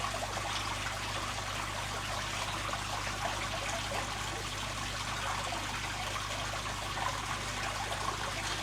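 Water trickles softly from a baster into an aquarium, a faint continuous dribble over a steady low hum, with no talking.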